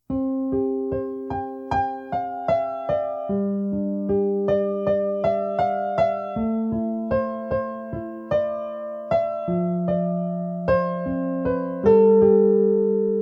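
Gentle piano plays the slow, arpeggiated intro of a song, notes rolling out evenly with low bass tones underneath, soft and solo with no voices.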